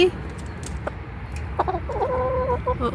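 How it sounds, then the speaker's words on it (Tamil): A rooster clucks a few times close by in a home garden in Switzerland, a short run of throaty calls over quiet background noise. "இது எங்கள் வீட்டு சேவல்"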